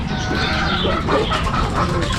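Several gamecocks cluck and squawk close by as they are released, a dense, continuous flurry of bird calls with no pauses.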